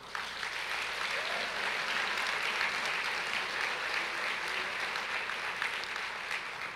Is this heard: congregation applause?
yes